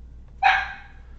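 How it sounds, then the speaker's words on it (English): A female dog lets out one sharp, close bark indoors. The bark rises abruptly over a faint steady room hum and then fades quickly. "I'm sorry, that's my dog."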